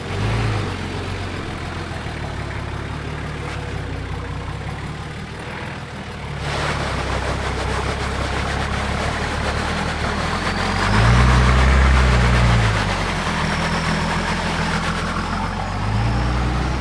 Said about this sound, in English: First gear low, both lockers in, just really idling and crawling the car